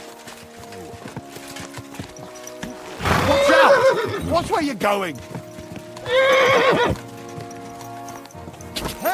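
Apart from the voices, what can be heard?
horse hooves in video game Kingdom Come: Deliverance II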